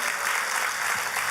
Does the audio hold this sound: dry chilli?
no